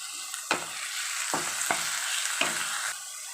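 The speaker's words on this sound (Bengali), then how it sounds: "নুনটা দিয়ে পেঁয়াজ আর টমেটোটা অল্প করে ভেজে নেব।" Onion paste and chopped tomato fry for prawn malai curry, giving a loud, dense, continuous sizzle broken by several sharp spatula scrapes and knocks against the pan.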